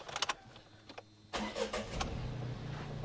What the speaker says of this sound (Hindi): पहले तो इंजन स्टार्ट कर लीजिए आप